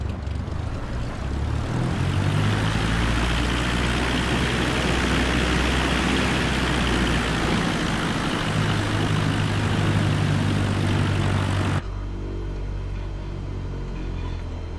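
A Cessna 172 with a G1000 panel taxis at Imperial Beach, its propeller engine droning steadily and loud throughout with a low harmonic hum, dropping slightly in level near the end.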